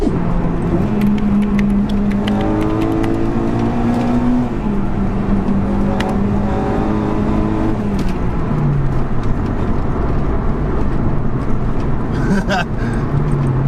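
A Honda DC5 Integra Type R with its naturally aspirated engine is driven on the road, its revs rising and falling in clear stepped tones through gear changes. The engine runs loud and steady throughout, with faint speech in the cabin.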